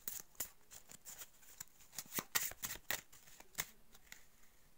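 Oracle cards are shuffled and drawn, producing a rapid, uneven series of crisp papery riffles and flicks, close and quiet, running steadily with no voice.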